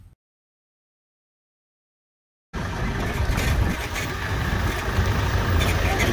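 An electric golf cart drives after a couple of seconds of silence, its steady, loud whirring rumble and road noise rising abruptly and continuing unbroken to the end.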